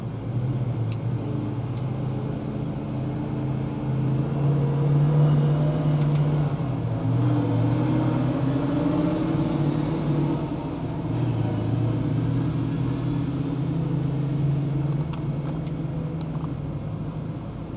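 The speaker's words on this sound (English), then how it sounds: "Here comes a truck that just got emptied." An emptied truck on a back road in Hawaii passes by, its engine a steady low rumble that swells a little and then eases, continuing for the whole stretch with no talking.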